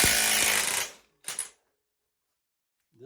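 On a 1987 Honda GL1200 Goldwing, an impact tool takes a 27 millimeter nut off the wheel in one loud, close burst of about a second, then a short rattle and silence.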